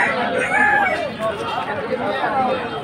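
Chickens at a poultry market in Narayanganj, with rooster crowing and clucking over a steady crowd chatter; people talk nearby throughout.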